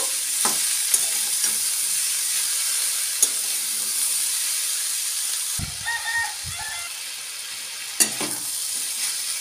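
Salted vegetables fry in a pan with a steady close sizzle, punctuated by occasional sharp spatula clicks and a brief burst of clattering stirring midway.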